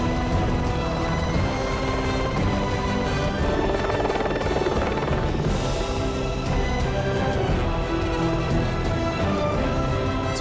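A helicopter over a glacier on Mount Jackson during a crevasse rescue produces a loud, continuous rotor thudding and turbine whine that stays close and steady throughout.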